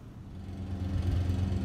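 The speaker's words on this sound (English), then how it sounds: "Sorry for the lawnmower in the background." A steady low mechanical drone of a lawn mower running in the background, swelling slightly louder toward the end with no voices.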